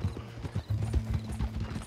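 In the Red Dead Redemption 2 video game, a horse's hooves clip-clop in a steady walking rhythm, moderately loud, along with a low tonal hum and faint creaking of tack.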